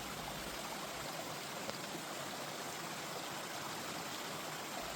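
Tonghou Creek, a shallow mountain stream in Yilan, Taiwan, rushes in a steady, unbroken wash of water, fairly soft and even throughout with no voices.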